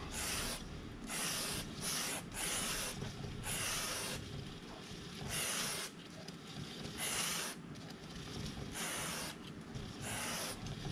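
Aerosol lubricant sprayed onto the chain of a Harley-Davidson Pan America motorcycle, heard as a series of close, loud hissing bursts of about a second each, separated by short pauses and faint rubbing.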